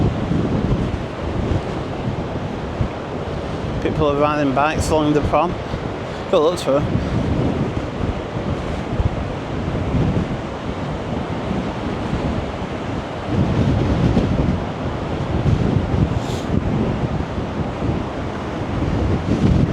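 Rough sea surf and strong gusting wind along the Blackpool promenade, a constant loud roar with wind buffeting the microphone, while a person talks briefly over it.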